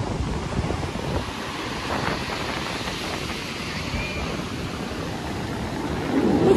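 Sea waves washing up a beach over bare feet on a vacation shoreline; a steady broad wash of surf with wind buffeting the microphone, swelling slightly louder toward the end.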